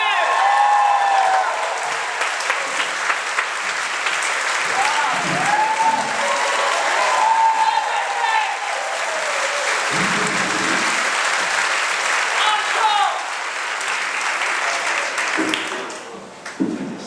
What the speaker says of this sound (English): I'll be personally offended if you don't clap one more time for Mr.